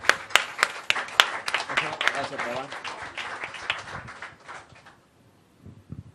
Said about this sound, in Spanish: Un aplauso al Rey, claro que sí.